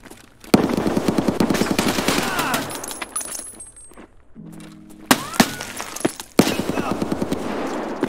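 Rapid automatic gunfire in Escape from Tarkov, loud close bursts of evenly spaced shots broken by short pauses, with sharp impact thuds and a few distant single cracks between the volleys.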